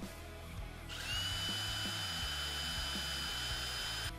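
A DeWalt impact driver whines steadily at close range with a high, continuous motor tone and rapid rattling impacts underneath, running for a few seconds without pause.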